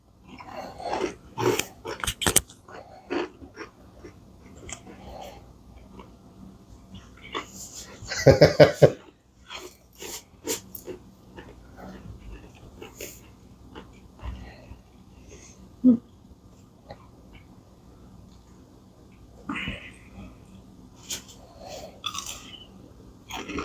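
Crunchy chewing of Popeyes pickle wings glazed in pickle sauce: irregular close bites and crunches with mouth sounds and breathing, and a few short spoken remarks between chews.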